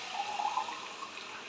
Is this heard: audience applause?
no